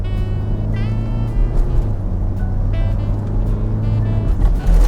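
A 2019 Suzuki Ertiga engine pulls hard in second gear, a loud, steady drone with rising harmonics and a brief shift-like dip near the end, heard close from inside the cabin.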